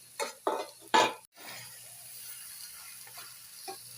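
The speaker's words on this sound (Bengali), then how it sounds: "আলু মাছগুলো দিয়ে দিলাম, দিয়ে কষবো ভালো করে" Potatoes and bhetki fish frying in a pan with coriander leaves. A few loud scraping stirs and clatters come in quick succession, then give way to a low, steady sizzle with a faint later clink.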